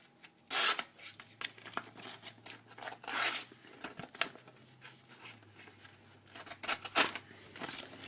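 A Benchmade Adamas knife cuts with rough, rasping scrapes in several separate strokes close to the listener, each a short gritty burst with quiet pauses between and no speech.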